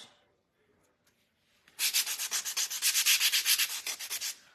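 Rhythmic back-and-forth scratching of sandpaper on a small wooden craft kitchen hutch, about a dozen quick strokes close by, starting after a quiet pause.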